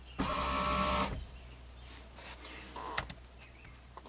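A GMC Envoy XUV power roof motor whirs briefly when powered, a short, fairly loud electric drone lasting about a second. Quiet clicks and small mechanical knocks follow in a near-silent garage.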